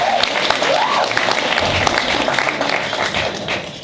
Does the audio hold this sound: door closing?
no